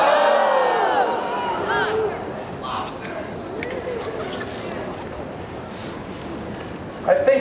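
A crowd at a Boston Massacre reenactment shouts and jeers loudly at the start, then settles into scattered murmuring and calls before another burst of shouting at the end.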